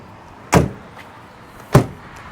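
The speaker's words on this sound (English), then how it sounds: "Just gonna walk around, close all the doors." Two solid car doors slamming shut, about a second apart, on a 2000 Ford Excursion Limited with a 7.3L Powerstroke diesel, heard from a short distance with quiet background between.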